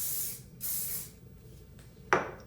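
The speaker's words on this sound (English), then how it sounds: "So I'm gonna spray what we've done" Hairspray is sprayed onto curled, wavy hair in short aerosol hisses, with two longer bursts early on and a sharp, brief spritz near the end, heard close up with no talking.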